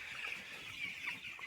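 About 1,250 broiler chickens, 17 days old, fill a poultry shed on a cold morning, some under heaters. They make a steady, dense chorus of high peeping and clucking that carries on without a break and with no talk.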